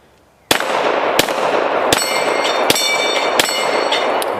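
Six sharp Glock 34 pistol shots fired at a tree outdoors, spaced roughly evenly at under one-second intervals, loud and close with metallic ringing after each report and no talking.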